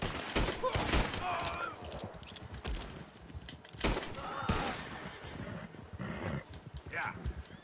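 Gunfire from Red Dead Redemption 2 cracks out in several loud, sharp bursts, with a few shots close together and others spaced apart, mixed with game noise and someone talking over it.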